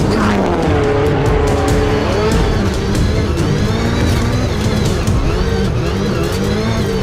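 Rallycross race cars, including the number 18 Subaru, roar loudly and continuously on track with high revving engines, tire squeal and skidding, the Subaru taking a heavy impact to its rear end during the race.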